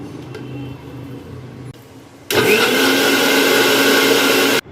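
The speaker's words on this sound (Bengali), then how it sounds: "এবার এটাকে আমি ব্লেন্ড করে নেব।" A kitchen blender whirs loudly and steadily for a couple of seconds as it purees banana, oats, water and honey into a smoothie, cutting off abruptly at the end after a quieter lead-in.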